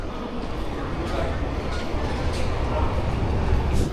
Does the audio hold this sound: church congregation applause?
no